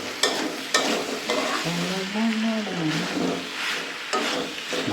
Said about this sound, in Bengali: ভাজা ভাজা আওয়াজ আসতে শুরু করে দেবে, ভাজা হতে শুরু করে।